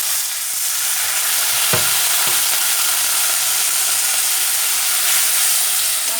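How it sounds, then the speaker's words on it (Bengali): Spice masala with chilli powder and a splash of water sizzles steadily in a pan for a Bengali jackfruit curry, a loud continuous hiss with a couple of brief stirring knocks. "এগুলো একটু অল্প করে জল দিয়ে আমি মশলাটা কষাবো"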